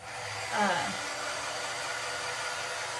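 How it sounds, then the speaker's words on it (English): A handheld heat gun blows hot air onto wet rub-on transfer paper stuck to a bathroom cabinet. Its whirring, rushing airflow runs steadily and quite close, swelling briefly near the start. "heat gun."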